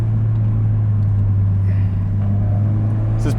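A 380 wheel-horsepower Subaru WRX being driven hard along a winding canyon road, heard from inside: a loud, steady engine drone with low rumble holding throughout, pitch shifting slightly near the end.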